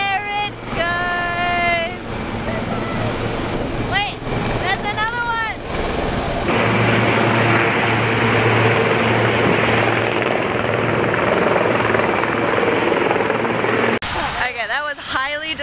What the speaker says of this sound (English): What was I saying before the helicopters came